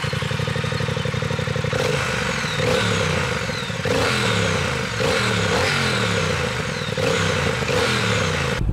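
The 1200cc twin-cylinder engine of a 2021 Triumph Speed Twin motorcycle, fitted with two large exhausts, idles with a lumpy throb and is blipped in a series of sharp, loud revs, each falling back to idle.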